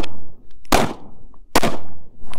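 Two sharp, loud gunshots strike a body armor vest during a 100-round test, each a sudden broadband crack with a short decaying tail, spaced under a second apart with quiet between.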